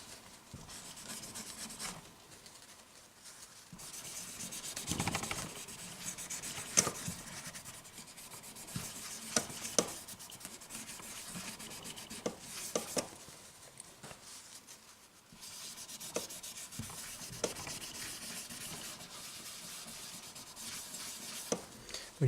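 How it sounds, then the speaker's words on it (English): A cloth rubs over the fretboard of a Tradition Guitars T20Q Strat during cleaning, giving soft, close scratchy strokes in uneven bursts with occasional small knocks and no talk. "we're going to take the cloth here and make sure we get it all over the fretboard"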